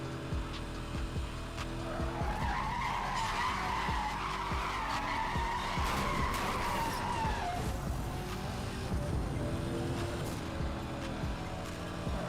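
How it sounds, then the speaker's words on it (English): Tires squeal in a long handbrake skid of a car in a PC racing game, a rising and wavering screech lasting several seconds over the steady engine drone, then fading back to engine noise. "I think I have to use the handbrake for this car."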